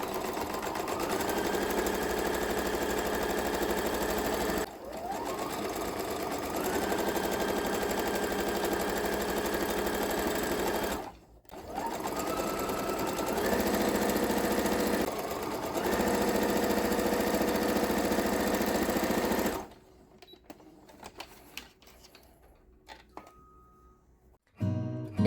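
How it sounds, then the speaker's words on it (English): A sewing machine stitches up the sides of folded fabric pieces in three long, steady runs of loud whirring, separated by brief pauses, before falling quiet with a few small handling clicks. "we are just going to fold them directly in half and sew up both sides, leaving the top open."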